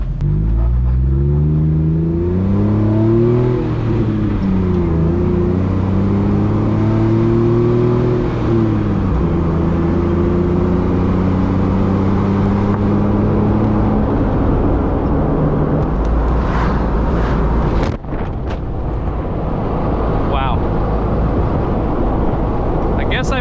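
A Jeep with bolt-on performance upgrades accelerating on the road, its engine rising and falling through gears in a loud, close drone that settles into steady road noise, with talk over it.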